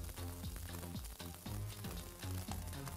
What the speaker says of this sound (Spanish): Le salteo rápido